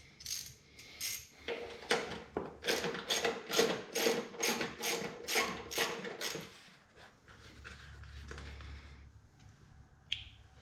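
A ratchet clicks off 10mm dash bolts on a compact tractor, giving a close, rapid run of sharp pawl clicks for about six seconds, then quieter handling noises and one last click.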